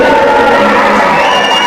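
A crowd of young men whistling at a village gathering in Bishnupur Kalita village: loud, shrill overlapping whistles mixed with whoops and cheering, close and continuous.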